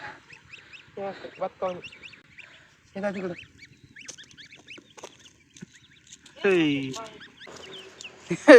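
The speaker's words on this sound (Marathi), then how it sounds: "आपले गावरान कोंबडीचे पिल्ल पण सोडलेत आता इथं" Native country chicken chicks foraging on a village farm give short clucks and peeping calls in scattered bursts, some close and loud, with quiet gaps between them.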